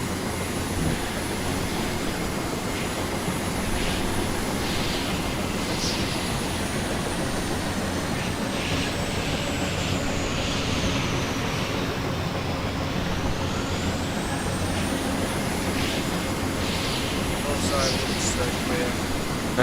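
An airplane in the video game Carrier Command 2 flies with a steady, droning engine hum whose pitch dips and rises once midway, sustained and fairly prominent throughout.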